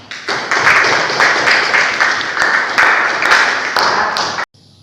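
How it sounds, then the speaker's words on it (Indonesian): A classroom full of students claps for a group that has just finished: dense, steady applause with overlapping hand claps that runs about four seconds and then cuts off abruptly. "mari kita beri aplaus untuk kelompok 1 dan untuk kita semua"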